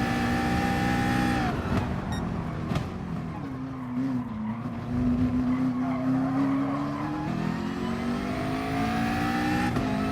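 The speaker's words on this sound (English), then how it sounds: "Powering back up to give my McLaren a little bit more juice to play with." A McLaren race car in Gran Turismo Sport roars steadily with engine tones shifting pitch through gear changes, and tyres squeal and skid through the corners, loud and continuous from start to finish.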